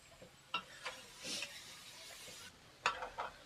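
Mawa roasting in a pan with coconut powder for carrot barfi, giving soft scraping stirs and faint sizzling, with a few sharper spoon scrapes at irregular intervals, close and quiet with no talk.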